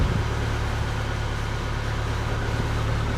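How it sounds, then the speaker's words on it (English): A sailboat's engine runs steadily in forward gear while the boat is tied at the dock, a low, even idle-like hum with no change in revs. "Not going to rev it up too much in forward because we are at the dock"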